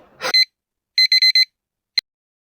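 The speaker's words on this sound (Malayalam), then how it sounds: "ഏതാണോ അലാറം വെച്ചത്? Alarm off ആക്കണോ?" An alarm clock beeps in quick bursts: a brief rustle, one beep, then a rapid cluster of four or five beeps, and a final short chirp.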